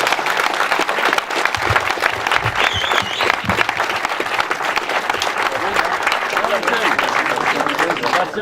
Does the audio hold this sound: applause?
yes